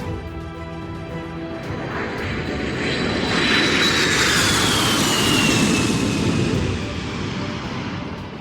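An airplane's jet engines build during takeoff, a broad roar swelling to a peak in the middle and easing slightly, with a rising high whine above it; loud and steady, no talk over it.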